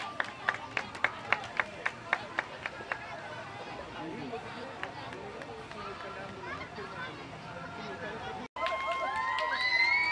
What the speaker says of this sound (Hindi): तालियां जोर से तालियां होनी चाहिए।